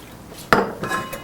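A large stainless steel frying pan clanks sharply once, followed by a few lighter clinks and scrapes of cookware.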